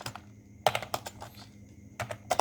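Keystrokes on a computer keyboard while code is typed for a to-do app in HTML, CSS and JavaScript, coming in quick irregular bursts of clicks with short pauses between them, close and fairly quiet, with no talking.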